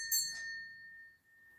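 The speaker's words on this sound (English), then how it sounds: "Tico gives you the ring of a bell." A pet parrot rings a bell: one bright, clear ding that rings on with a long, fading tone. It is close and alone, with no talking.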